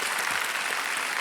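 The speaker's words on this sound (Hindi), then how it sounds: "तालियों के साथ आपका स्वागत करते हैं डॉक्टर।" Studio audience applause welcoming a contestant to the hot seat on a quiz show, a dense, even wash of clapping at steady volume through the whole brief stretch.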